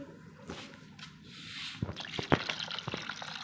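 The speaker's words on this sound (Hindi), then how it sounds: "अब इसमें वाटर ऐड कर देंगे।" Water poured into blended aloe vera juice with ice, a soft liquid splash and trickle followed by several sharp drips and splashes growing louder toward the end, close by with no talking.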